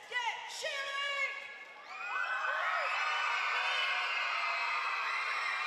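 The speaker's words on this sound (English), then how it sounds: "Let's get cheering!" Kids and parents at a basketball game cheering and whooping loudly, high excited yells rising after a brief dip into a sustained, dense roar of shouting voices.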